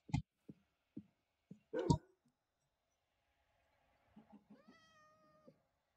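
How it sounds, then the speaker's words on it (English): A cat in the Minecraft video game lets out a short, faint meow near the end, preceded by a series of sharp thumps and soft footstep-like taps in an otherwise quiet scene without talk. "Cat!"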